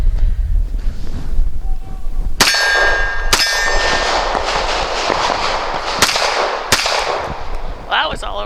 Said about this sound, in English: So my first shots through the Strike 1.